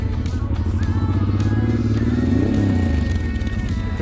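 A Honda Transalp motorcycle engine close by, loud and rumbling, rising in pitch through a throttle blip and then settling back to a rough steady idle.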